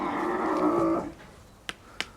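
Cattle at a livestock market in Wang Prachop, Tak, Thailand, with a long, loud moo from a young animal lasting about a second, followed by quieter market background and two short sharp knocks.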